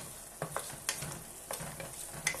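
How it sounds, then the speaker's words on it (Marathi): Salted onions sautéed in a pan with a paste: a steady sizzle broken by repeated scraping strokes of a spoon or spatula, close and fairly quiet, with no talking. "कांदा पटकन शिजतो है ना, तसं मस्त पैकी असं परतायचं"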